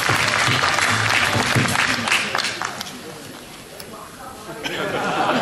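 Crowd applause fills a formal Taoyuan Hakka Affairs Bureau ceremony as elder Hakka literary figure Zhong Zhaozheng is welcomed onstage. The dense clapping is loud at first, then thins and softens, with voices chattering underneath.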